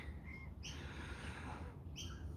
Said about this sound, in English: And the birds, they all came out today with the rain.